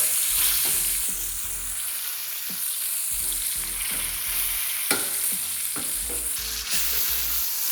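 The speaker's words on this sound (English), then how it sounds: "It's been searing on one side for a while now." Steak searing in a hot pan, a loud continuous sizzle with crackling spatter throughout and faint clinks of a utensil.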